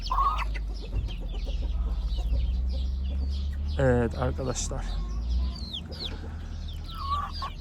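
Gurk hens and an Indian rooster kept indoors, clucking repeatedly with a brief louder call in the middle, under a steady low hum and intermittent talk.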